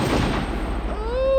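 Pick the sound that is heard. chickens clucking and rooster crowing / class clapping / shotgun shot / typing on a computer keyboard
shotgun shot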